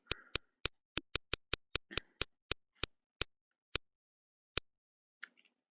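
An online prize wheel spins and ticks, starting with rapid sharp clicks that gradually space out and slow to a stop, followed by one faint final tick.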